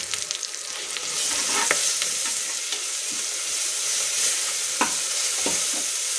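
A spoonful of ginger garlic paste fries in a pan, a dense continuous sizzle up close with a few sharp stirring clicks and scrapes scattered through, and no voices.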